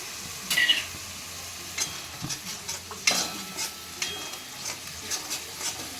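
Ginger-garlic paste and onion paste being sautéed in a pan for an egg korma, with a soft steady sizzle broken by scraping strokes of a spoon stirring through the paste, no voices.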